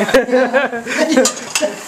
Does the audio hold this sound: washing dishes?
yes